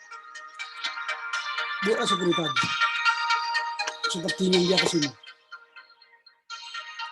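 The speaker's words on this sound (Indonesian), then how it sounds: "Sebentar ya, ada telepon lagi" A telephone ringtone plays a repeating melodic tune for several seconds, clearly louder than the surroundings, while someone speaks Indonesian over part of it during an online thesis supervision session.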